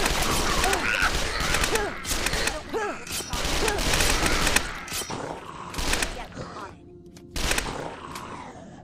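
Submachine gun fire in The Last Stand: Dead Zone, repeated rapid bursts with thuds and mechanical clatter, loud and dense throughout with brief pauses.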